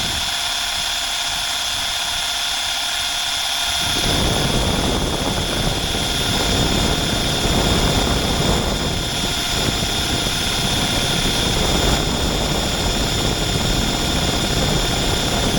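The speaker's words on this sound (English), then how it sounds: "Here's the oil pump working." A 1980 Triumph TR7 engine's oil pump starts running after about four seconds of quiet hum, then keeps up a steady, loud mechanical whir and drone with no one talking.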